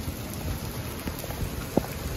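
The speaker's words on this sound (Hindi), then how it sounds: "देखो जी बारिश ही बारिश, अचानक बारिश आई" Sudden rain pouring down outdoors, a steady close hiss of falling drops with a few sharper splashes and drips standing out near the end.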